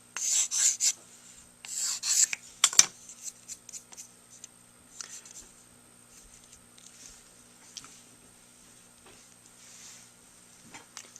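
A clarinet mouthpiece tip rail is sanded on 500 grit sandpaper in a few short, close scratchy strokes, which then fade into quieter, scattered rubbing and handling noises.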